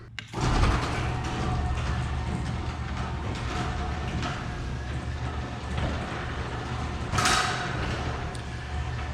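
A garage door closing, a continuous mechanical rumble and rattling slide lasting several seconds at close range, ending in a brief louder clatter as it comes down.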